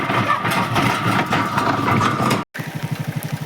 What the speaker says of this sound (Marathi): आता आईने मी मोटरसायकलवर जातो